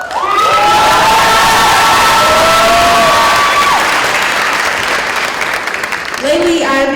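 A high school graduation audience roars with loud, sustained cheering and clapping, shrill whistles and children's shouts rising above the dense crowd noise throughout.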